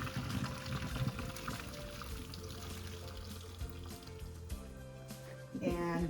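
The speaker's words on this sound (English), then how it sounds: "I'll strain out all the water." Boiled bow-tie pasta is tipped into a strainer, and its cooking water pours and splashes steadily through it, close and continuous, with a brief clatter near the end.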